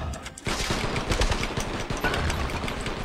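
Heavy gunfire in the Attack of the Movies 3D shooter game, dense rapid shots rattling continuously after a brief quiet start.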